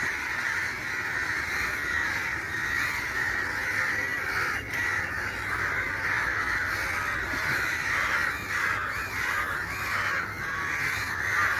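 Crows flying overhead near a bird caught in kite string, giving repeated harsh caws over a steady outdoor background throughout, fairly loud, with no one talking.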